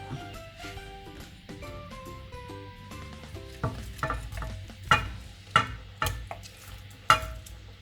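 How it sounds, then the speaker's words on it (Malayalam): Fish pieces drop into a bubbling Kerala-style fish molly curry, first a quiet simmer with faint tones, then a series of distinct soft splashes and clatters at uneven intervals, close up. "മീൻ കഷ്ണം അതിലേക്ക് ഇടാം."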